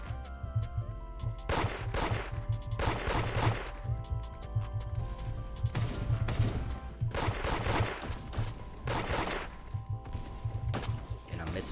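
Video game gunfire during a street raid: repeated rapid bursts of shots, loud and dense, coming in clusters every second or so, with a player talking over them.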